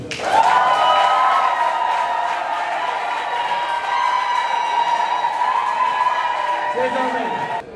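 A crowd at a civil wedding ceremony breaks into sustained applause and cheering, with a long, high vocal cry held over the clapping for several seconds, loud and close throughout.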